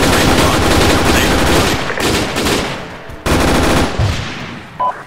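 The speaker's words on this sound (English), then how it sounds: "Everyone discharge your rifles into the air" Rifles fired into the air in a video game, a dense, loud volley of rapid overlapping shots that drops to a short lull, then a second burst of scattered fire.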